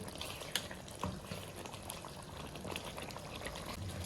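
Chicken karahi in tomato gravy bubbles steadily in a pan as the water cooks off, a continuous close sizzling simmer with occasional louder pops and no talking.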